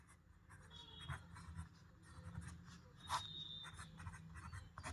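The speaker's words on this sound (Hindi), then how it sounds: "हम यहां लिख देते हैं संख्या" Pen or chalk scratching out numbers on paper during a Class 10 maths lesson, a soft intermittent scrawl of short strokes over a faint background hum, with one louder tap near the middle.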